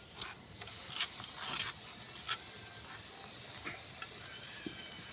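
Cumin paste, white seeds and cashews sizzle in a pan while being stirred, with soft scraping strokes and a steady low frying crackle throughout, quiet and close with no voices.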